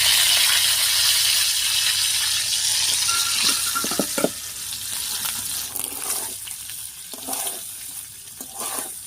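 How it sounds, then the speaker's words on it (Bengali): Steady oil sizzling and crackling of fresh cottage cheese (chhana) pieces frying in oil, with a few clinks of a utensil against the pan partway through. "এই তেলের উপরে একটুখানি লবণ দেবো, আর এর মধ্যেই ছানাটা ভেজে নেব"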